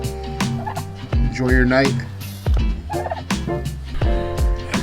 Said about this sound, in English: Turkeys are one of those animals that jives on a small scale on the homestead